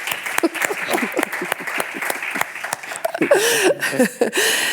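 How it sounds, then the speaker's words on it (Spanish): Audience applause for a speaker at a festival talk, a steady patter of many hands clapping with brief chuckles and scattered louder claps, swelling near the end. "Un aplauso para ella."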